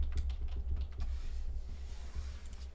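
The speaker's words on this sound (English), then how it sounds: "I'm just typing shotgun in the chat" Quiet typing on a computer keyboard at a desk during a livestream, a quick irregular patter of soft key clicks running steadily throughout, fairly close and low in level.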